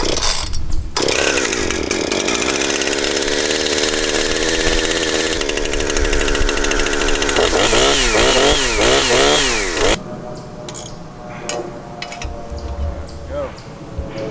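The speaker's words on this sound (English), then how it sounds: "We'll go ahead and fire up the chainsaw so that we can get it good and warm before we do this." A chainsaw engine warms up before use on a chainsaw mill. Its loud, steady roar runs close by for about ten seconds with pitch wavering under revs. It then drops to quieter idling with brief throttle blips. No one speaks.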